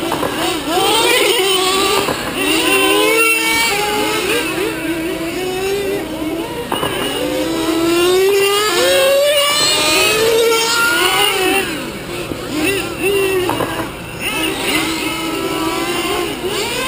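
Nitro RC cars racing down the straightaway in an endurance race, high-pitched engines screaming and revving continuously as several cars pass, loud and close, with a commentator talking over them.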